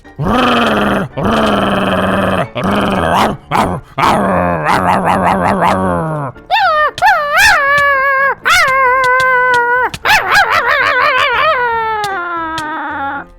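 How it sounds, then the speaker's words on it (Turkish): Dogs, one of them a Doberman, fight in the Minecraft video game, with a loud, continuous run of yelps, growls, whimpers and howl-like cries that rise and fall in quick bursts, close and without talk. "Gerçekten uzun kulaklarıyla onu ısırıyor. Ama diğer köpeğimiz de hiç kötü değil."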